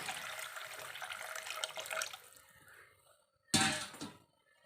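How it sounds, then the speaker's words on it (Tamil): Water runs from a tap into a pot of mango fish curry, a steady splashing stream that stops, then a short louder gush of pouring near the end, with no talking. "இப்போ நாம் தண்ணி சேர்த்துக்கலாம்"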